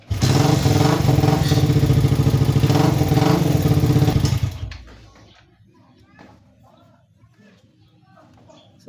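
A repaired motorcycle engine runs loud and close for about four seconds in a steady throbbing idle, then shuts off and leaves quiet handling noises.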